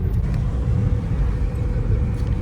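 Steady low road rumble from inside a moving car driven on a family trip, continuous and fairly loud with no talking.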